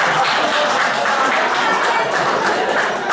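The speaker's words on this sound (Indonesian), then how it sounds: "Tepuk tangan teman-teman." Applause from a seated audience at an Indonesian sharing session, a steady dense clatter of many hands that holds evenly throughout with faint crowd murmur mixed in.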